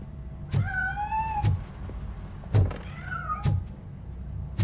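A cat in the video game Robocop Rogue City meows twice as it escapes, two drawn-out cries separated by dull thuds and knocks, close and clear over a quiet background.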